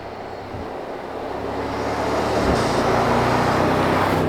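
Mercedes-AMG GT 63 being driven at speed, heard from the cabin: a broad, steady road and engine roar that builds and then holds loud, with a brief thump midway.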